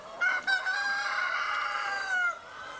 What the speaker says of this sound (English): The chickens at Kadoorie Farm are part of the same early morning hustle and bustle.